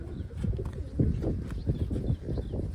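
Low, throaty cooing of pigeons, repeated in soft rolling bursts close by, with faint background murmur.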